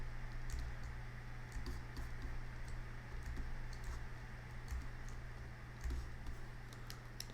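Keyboard keys tapping and mouse buttons clicking while working in 3D modelling software, a run of faint, scattered light clicks over a steady low electrical hum, close by and with no voices.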